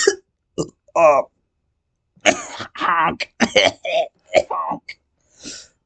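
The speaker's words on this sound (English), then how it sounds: "I actually coughed there." A man coughs in a few short, harsh bursts, followed by a stretch of close talking and then one more brief throat sound.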